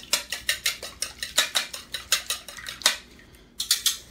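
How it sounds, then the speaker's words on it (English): Eggs being whisked in a bowl for a stuffed meatloaf mixture, a quick run of sharp, regular clinks of the whisk against the bowl, close and clear with a brief pause near the end before a few more strokes. "we're going to whisk it a little bit"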